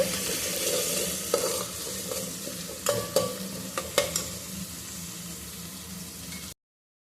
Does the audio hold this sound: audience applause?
no